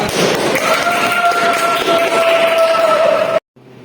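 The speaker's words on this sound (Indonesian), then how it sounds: "Beri tepuk tangan untuk Arga." An audience claps for a student presenter after a classroom presentation, dense steady applause from many hands filling the room, then cutting off abruptly near the end.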